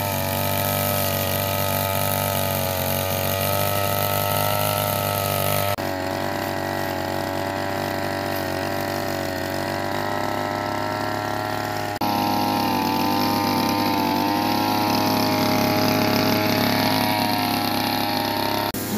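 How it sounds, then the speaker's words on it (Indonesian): A motorized grass cutter runs continuously during a village clean-up, a loud, steady engine drone with a harmonic whine that shifts pitch a couple of times as the load or throttle changes, with no talk over it. "Untuk mempermudah memotong rumput, kita gunakan mesin pemotong rumput."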